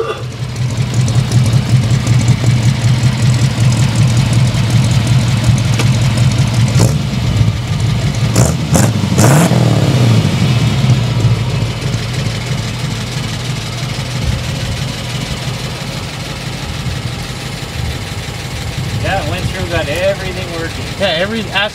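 A 1932 Ford flathead V8 engine, nearly new, idles with a steady low rumble, revving briefly midway, while people talk over it nearby.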